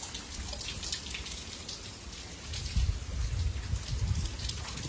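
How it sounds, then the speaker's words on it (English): Rain falling in a traditional Japanese garden in Okinawa, a soft steady patter of drops with a low, slightly heavier splashing swell toward the end, fairly quiet and without voices. "it's perfect too right now because it's raining"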